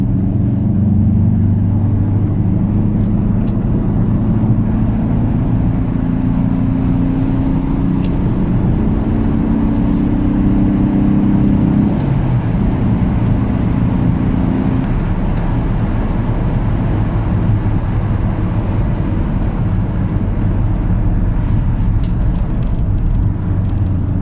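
Alfa Romeo 145, a 1990s Italian hatchback, accelerating on a test drive: a steady, loud engine drone with a rising tone that climbs, drops at a gear change, and continues as a constant in-cabin hum with no talk.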